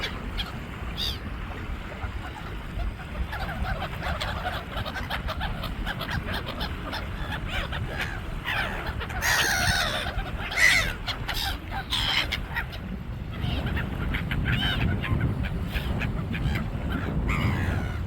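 Many seagulls call and squawk continuously at the beach, harsh cries overlapping over a steady wash of wind and surf.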